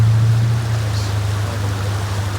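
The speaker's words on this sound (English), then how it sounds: "I'm assuming that waterfall is feeding this creek." A creek fed by a waterfall in Yosemite flows and rushes steadily, a constant broadband wash with a low rumble underneath, loud and close, with no voices.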